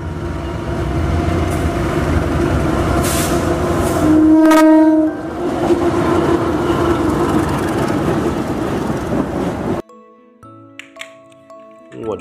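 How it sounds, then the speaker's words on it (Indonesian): A toy train locomotive plays recorded railway sounds: a rumbling clickety-clack run with a loud horn blast in the middle, then it cuts off abruptly into quieter handling clicks. "ini ada lokomotif kereta."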